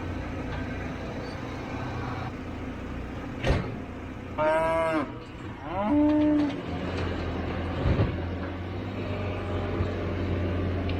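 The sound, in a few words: heifers and cows mooing in a pen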